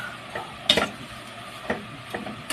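Magic Sarap seasoning is stirred into a cooking dish in a pan, with a few sharp scraping clinks of the utensil over a faint sizzle.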